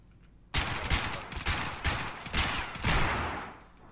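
Gunfire in the video game Escape From Tarkov, a burst of rapid sharp shots in uneven clusters after a quiet start, loud and close, then ringing tail, no voices.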